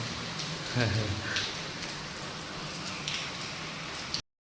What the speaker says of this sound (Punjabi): ਬਰਸਾਤ ਹਜੇ ਵੀ ਹੋ ਰਹੀ ਹੈ